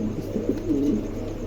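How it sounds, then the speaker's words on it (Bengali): Cooing from a pair of Andalusian dust tumbler pigeons, a soft, low throaty coo rolling steadily through the clip with no talking. "চমৎকার একজোড়া কবুতর, ভালো লাগলে অবশ্যই সংগ্রহ করতে পারেন"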